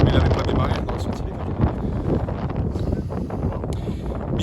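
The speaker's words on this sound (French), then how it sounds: "Ouh, il y a du vent." Wind blows hard across the microphone outdoors beside a camper van, a steady loud rush with gusty swells throughout.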